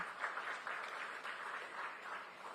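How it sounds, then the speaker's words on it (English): Applause from the audience at the Forbes India Leadership Awards 2022 ceremony, honouring the award jury; a steady, fairly quiet wash of clapping lasting a few seconds with no talk over it. "So a big round of applause for our esteemed jury."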